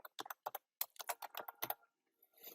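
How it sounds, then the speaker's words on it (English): Quick bursts of keystrokes on a computer keyboard as a name is entered into a database field, a close, dry clatter of irregular taps with short pauses, heard alone without talk. "and I'll type the name."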